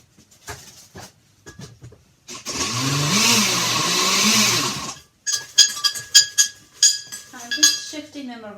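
A kitchen blender grinds graham crackers in one loud whirring burst of about three seconds. Sharp clinks and knocks of the jar and utensils follow in a quick, uneven series.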